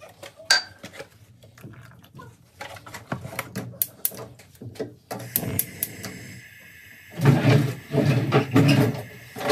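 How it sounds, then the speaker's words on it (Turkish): Pudding mixture is whisked in a bowl, with irregular clinks and rapid clattering taps of the whisk against the sides that grow louder and busier toward the end. "Şöyle iyice çırpacağım."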